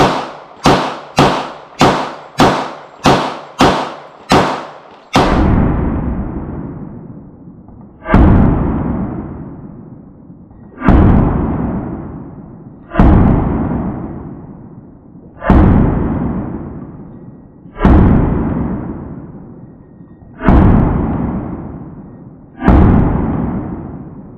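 Handgun shots from a Smith & Wesson M&P 40, SD40VE or Glock 23 in .40 S&W: a fast string of seven sharp reports, then slower single shots spaced a few seconds apart, each loud and close with a decaying tail.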